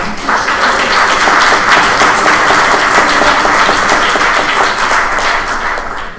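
Loud, close clapping from an audience at a symposium, crisp individual claps blending into a thick, continuous round that tapers slightly at the end.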